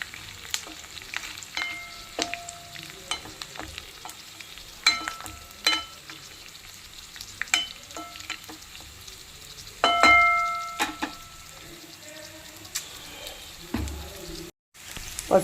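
Flattened rice (atukulu) stirred and roasted in a pan over medium heat, a soft dry sizzle broken by repeated sharp scrapes and taps of the spoon against the pan, steady and close, with no voices.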